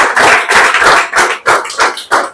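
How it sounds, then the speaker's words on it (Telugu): An audience at a data science interview event claps loudly and close by in a rhythmic series of about eight sharp bursts. "కొంచెం గట్టి క్లాప్స్ కొట్టాలి."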